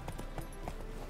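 Horse hooves clip-clop in a quick galloping rhythm in The Witcher 3 video game, steady and moderately loud over a dense background rumble, with no one talking.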